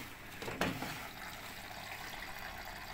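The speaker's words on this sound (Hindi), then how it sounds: "देख रहे हैं आ गया पानी अंदर" Water streams into a Whirlpool Xpert Care front load washing machine, a soft, steady hiss and trickle with a brief louder splash near the start, faint and close.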